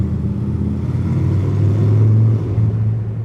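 A stock 2008 Honda Shadow Aero 750 motorcycle idles and rumbles steadily up close indoors, a deep, loud exhaust drone that swells slightly midway.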